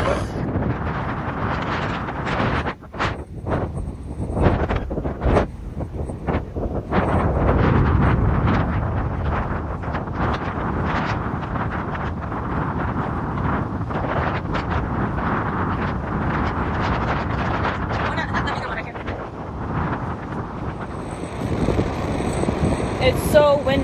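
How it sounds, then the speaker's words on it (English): Strong wind at a beach buffets the microphone in loud, roaring gusts, with occasional voices and rustling under the blustery noise. "It's so windy, guys."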